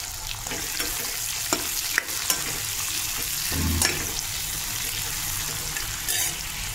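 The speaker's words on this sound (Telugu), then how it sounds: "ఉల్లిగడ్డ పచ్చిమిర్చి వేసుకుంటున్నాను. వేసుకొని కలుపుకోవాలి." Onions and green chillies sizzle in hot oil with cumin and bay leaves for an egg masala curry, under a moderate, continuous frying hiss and occasional stirring scrapes.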